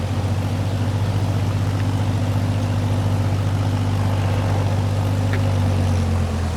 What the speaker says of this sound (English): There's my second tractor going. It actually goes.